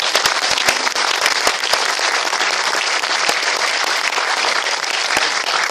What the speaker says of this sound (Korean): 뜨거운 마음으로 우리 모두 참석자 일동이 다시 한번 뜨거운 박수로 우리 목사님을 맞이하겠습니다